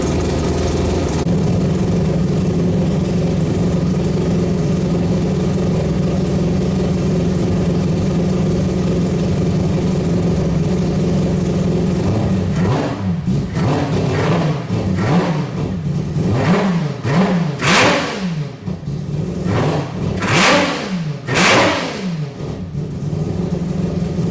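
A three-rotor rotary engine fitted with individual throttle bodies idles loudly and steadily, then is revved in a series of sharp, rising and falling blips that grow more aggressive toward the end, close up with no talk.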